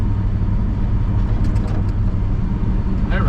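An old Chevy squarebody truck drives while towing a heavily loaded trailer, its engine a steady loud low drone with road rumble heard from inside the cab, continuous and unbroken.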